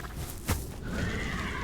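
A skeleton horse in Hytale gives a single short neigh, sharp and close, followed by a sustained tonal game sound.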